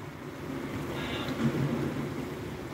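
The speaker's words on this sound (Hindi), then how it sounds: "इस टाइम कि बारिश तेज़ हो गई है" Heavy rain falls in Jalandhar, Punjab, a steady broadband hiss with a low rumble, moderately loud and even throughout.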